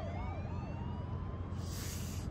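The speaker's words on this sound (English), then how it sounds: "that's a lot of police cars" Police car sirens wail in the distance, a rising and falling electronic tone cycling steadily over low background rumble, with a burst of hissy noise near the end.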